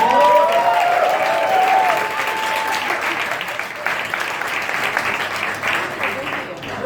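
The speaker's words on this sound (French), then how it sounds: "Et donc vous pouvez vous applaudir très fort." A crowd applauds loudly and steadily at a French cabaret-style comedy show, dense clapping filling the room throughout, with a voice speaking and some singing-like tones over it early on.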